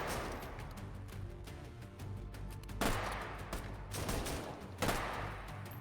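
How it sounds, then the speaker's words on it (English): Shotgun blasts in a competitive video game match, a few sharp booming shots spaced a second or so apart over dense continuous game noise, fairly quiet overall. "playing it risky, using the shotgun there"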